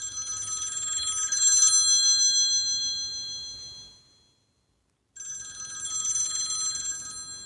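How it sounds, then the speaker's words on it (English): An old-style telephone bell ringtone rings in two bright, trilling bursts. The first fades out and breaks off, leaving about a second of silence before it rings again, loud and alone. "Oh, it's old telephone."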